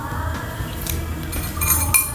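A spoon tapped against a bowl for a sound experiment gives a few light, close metallic clinks spread over about two seconds, over a faint steady background hum with no talking.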